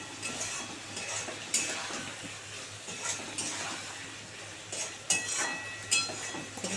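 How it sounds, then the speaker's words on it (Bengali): Spice paste (masala) stirred and fried in oil in a pan for a Bengali koi fish curry, with a steady sizzle and intermittent scrapes and clinks of a spoon against the pan, close and fairly quiet, no talk. "2 মিনিট ধরে শুধু মশলা কষাচ্ছি।"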